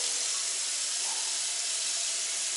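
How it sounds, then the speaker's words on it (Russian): Cold tap water pours steadily into a glass in Vienna, a close, even, bright hiss that runs unbroken throughout with no voices. "Берем, открываем холодную воду. Наливаем бокал."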